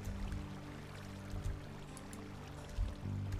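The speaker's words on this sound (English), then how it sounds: "now the water's pouring everywhere, it seems" Water pours continuously in a Minecraft world, a steady rushing stream under low droning game ambience, moderately loud and alone with no talking.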